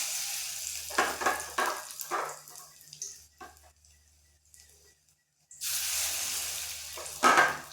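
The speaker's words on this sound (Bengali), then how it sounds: "এইভাবে বড়াগুলো সব ভেজে নিচ্ছি।" Green banana fritters frying in oil, bursts of crackling sizzle that swell as batter goes in, drop to near quiet in the middle, then return loud and steady close by.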